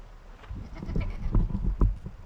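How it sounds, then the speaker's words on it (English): Female goats in a backyard pen give short, close bleats that repeat unevenly against a muffled, rumbling outdoor background. "The goat girls are happy."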